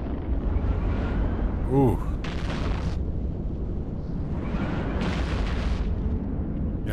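Ship weapons fire and bursting explosions in the space game Eve Online, during an Abyssal Deadspace fight in a Gila, with two or three broadband blasts under a player's voice and a brief exclamation.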